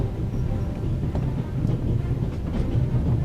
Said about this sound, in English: how else can I stop the train?